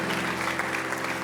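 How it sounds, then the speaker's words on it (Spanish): A church congregation claps together in sustained applause, dense and steady with no talk over it. "Dale un fuerte aplauso al Rey de Gloria."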